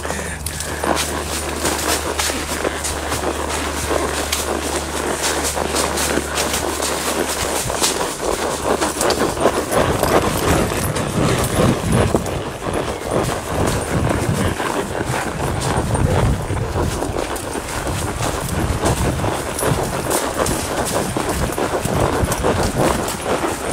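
Tennessee Walking Horse hooves clip-clop in a steady loping rhythm along a spring forest trail in Angelina Forest, Texas, close and continuous, with light rustling and no talk.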